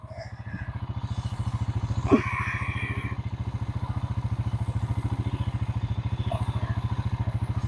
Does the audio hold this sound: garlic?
no